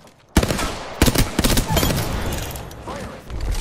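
Rapid bursts of gunfire in the battle royale game Apex Legends, a sudden loud volley followed by repeated sharp shot clusters and sustained firing, close and dense, with brief pauses between bursts.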